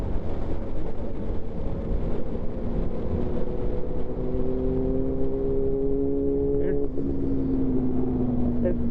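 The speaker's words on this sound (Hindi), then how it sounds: "ये कोई एक और बाइक भी जा रहा है बाइक, अब पता नहीं कौन सा बाइक है, लेकिन सुपर बाइक लग रहा है मुझे कोई।" A superbike passing on a road, its engine a sustained loud drone whose pitch slides downward as it goes by, with wind buffeting the microphone throughout.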